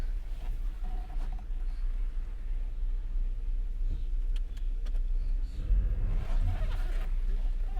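A BMW engine idles smoothly after a new fuel pump was fitted, a steady low rumble running throughout inside the car with faint cabin clicks and rustles.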